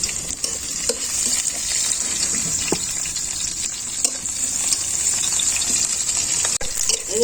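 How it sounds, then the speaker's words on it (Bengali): Green chillies frying in hot oil in a pan, giving a steady, dense sizzle with occasional stirring scrapes, close and fairly loud throughout with no talking. "মরিচটা আমার ভাজা হয়ে গেছে।"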